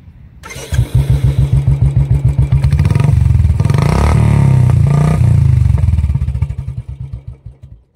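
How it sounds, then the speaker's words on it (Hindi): Modified motorcycle with an aftermarket exhaust starting up and revving, a loud close thumping idle rising to a roar then falling, with sharp popping crackles as it winds down. "तो गाइस देख सकते हो कितना भयंकर साउंड है, और क्रैकल्स तो अपने आप मारती है।"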